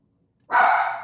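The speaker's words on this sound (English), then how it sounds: "My dog has something to say about this too, I think." A dog barks once, close and fairly loud, after a moment of silence, the bark trailing into a breathy tail.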